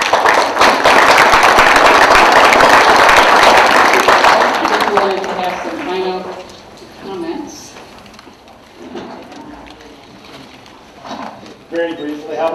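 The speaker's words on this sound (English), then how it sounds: "take a moment to give yourself a hand for being here tonight" An audience at an evening panel discussion on 21st-century learning applauds itself, a loud burst of many hands clapping that fades after a few seconds as a speaker's voice takes over.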